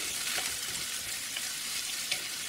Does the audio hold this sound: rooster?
no